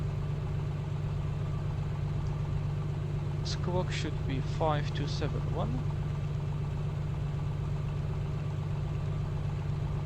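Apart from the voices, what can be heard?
aircraft engine warming up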